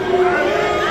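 Wrestling crowd at a ladies tag team match, a steady roar of many voices with shouts and cheers, loud and continuous throughout.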